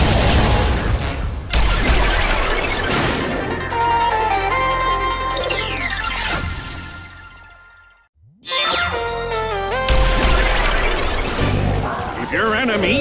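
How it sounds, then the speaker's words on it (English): A frost cannon from the Ratchet & Clank video game unleashes repeated icy blasts with crashing bursts over a dense musical score, continuing loudly before a brief drop to near silence, then resuming with sweeping effects. "Use multiple frost cannons to unleash a devastating Arctic blast!"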